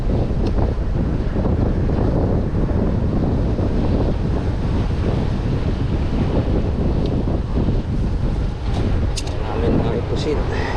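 Strong ocean surf and gusting wind at a shoreline fishing spot, a continuous loud roar of breaking waves with wind buffeting the microphone throughout.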